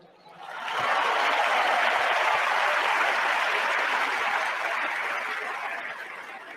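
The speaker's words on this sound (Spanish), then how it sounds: "Cada oración tiene que frenar por la ovación que reciben." An audience breaks into a sustained ovation during a Javier Milei speech, the applause swelling quickly after a quiet start, holding loud and even, then tapering slightly at the end.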